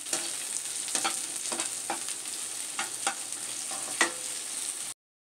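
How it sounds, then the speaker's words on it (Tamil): Thinly sliced onions sautéing in a pan, a continuous sizzle broken by repeated stirring scrapes at an uneven rhythm, close and moderately loud before cutting off abruptly. "வெங்காயம் மெலிசாக கட் பண்ணி வச்சுக்கிறேன், அதையும் இதில் சேர்த்துக்கலாம். இதையும் சேர்த்து நல்லா வதக்கிக்கலாம்"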